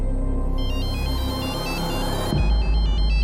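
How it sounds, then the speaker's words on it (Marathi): A synthetic phone ringtone plays loudly with a steady repeating melodic pattern, then a louder thump-like shift as the tone continues. "कोणीतरी मला सारखं फोन करतोय."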